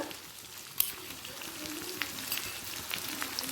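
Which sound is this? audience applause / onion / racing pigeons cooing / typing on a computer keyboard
onion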